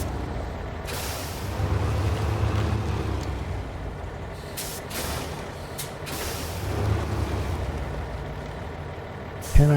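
A truck engine in the SnowRunner game rumbles low and steady, rising and falling in revs with a brief hiss of air and a sharp clunk at the end.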